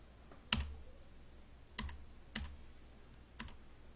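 Sharp computer keyboard clicks and mouse button presses at a stock trading desk, four isolated taps spaced irregularly over a quiet background, close and fairly soft.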